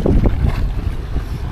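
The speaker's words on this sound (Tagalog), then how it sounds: "Lakas ng hangin." Strong wind buffets the microphone at a beach resort in Mariveles, Bataan, a loud, continuous low rumble with gusty surges and no other sounds.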